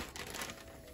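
A plastic bag holding new FTP denim crinkles and rustles, a continuous close crackle lasting under a second, with no voices.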